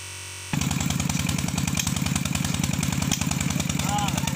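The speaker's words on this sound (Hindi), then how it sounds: "ये फीटर इंजन है और इसी के ज़रिए ज़मीन से पानी निकल रहा है" In a Pakistani village, a Peter engine drives a tubewell water pump, kicking in abruptly and then thumping in a fast, steady, loud rhythm close by.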